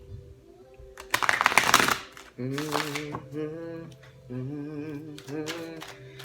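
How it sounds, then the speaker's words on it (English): A tarot card deck is shuffled in two quick riffling bursts, close and crisp, over tonal background music. "So let me go ahead and shuffle these and lay them out"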